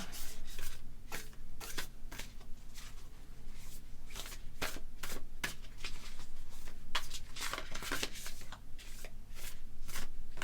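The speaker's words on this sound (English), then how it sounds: "I will now shuffle this deck and pick out your significator card." A tarot deck is shuffled repeatedly, a quick papery riffle of flicks and taps with a steady rhythm, close up.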